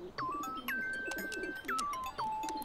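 Pigeons coo in a soft, repeated rolling rhythm of several calls, moderately close, with faint background noise and occasional sharper clicks and chirps mixed in.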